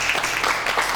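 Brief burst of studio audience applause on an Azerbaijani comedy talk show as a black box is carried in, with close, rapid clapping at an even level.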